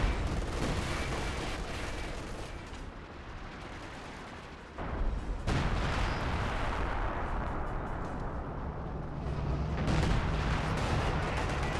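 Rifle grenades and battle fire in Company of Heroes 2, a dense, loud, continuous barrage of explosions and gunfire rumbling throughout, with a brief dip before heavier blasts resume.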